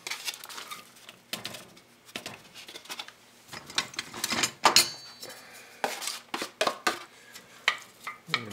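Chopped onion tipped into a pan with a spoonful of olive oil, giving scattered patters, scrapes and utensil clinks at close range with no talking.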